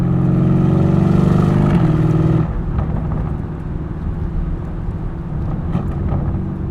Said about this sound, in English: this exhaust is totally factory. And it's decently loud. You get some pops.